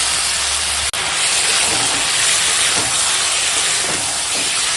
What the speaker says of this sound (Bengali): দেখো বন্ধুরা মাংসটা এখন কষাচ্ছি